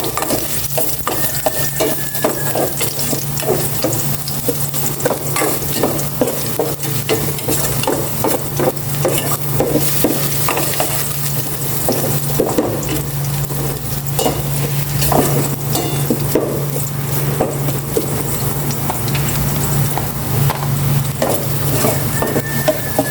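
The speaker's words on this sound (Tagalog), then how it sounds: "Magisa na ako. Bawang." Garlic sautéing in a pan gives a continuous loud sizzle with repeated scraping and stirring of a utensil against the metal throughout, no talk.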